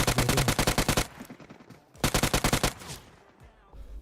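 SMG gunfire in PUBG Mobile comes in two loud, close bursts of rapid shots, each about a second long and separated by a short gap, with faint echoing tails after each burst.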